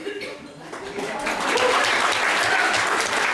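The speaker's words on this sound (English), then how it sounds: "Y'all got to give me a big round of applause." Audience applause fills a comedy club during a stand-up guest set, a steady broadband clapping that swells after a quieter start and holds loud to the end, with no talk over it.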